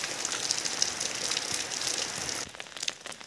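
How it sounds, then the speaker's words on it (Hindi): Heavy rain pours into a home courtyard in Uttarakhand, a dense close hiss with scattered droplet patters that drops abruptly in level partway through, with no talking. "बहुत ज़्यादा बारिश हो रखी है"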